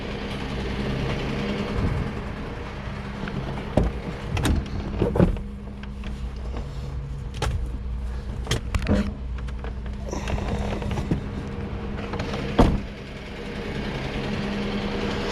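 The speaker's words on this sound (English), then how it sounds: "If I move the truck slightly" A truck's engine running while the truck is eased forward a couple of inches, a steady low rumble with scattered clunks and mechanical knocks, close by, and a sharper bang near the end.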